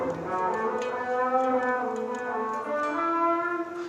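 Electric guitar run through a web-audio distortion effect, a few sustained overdriven notes and chords with a buzzy harmonic edge, played alone at a steady moderate loudness.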